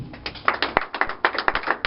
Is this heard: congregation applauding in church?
yes